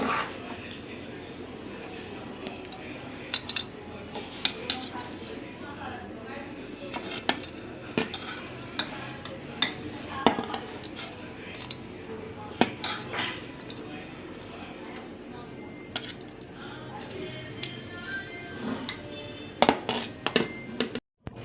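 Bakra pulao, goat meat rice, is spooned out of a cooking pot. A metal spoon clinks and scrapes against the pot in repeated, uneven knocks over a steady low background.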